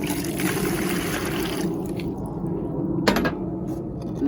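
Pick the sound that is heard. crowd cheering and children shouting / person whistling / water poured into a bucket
water poured into a bucket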